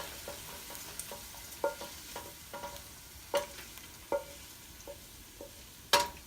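Garlic frying in a pan for Thai pad see ew fried noodles, a soft steady sizzle broken by intermittent scraping stirs and clinks of a utensil against the pan, close and moderately quiet, with no talking.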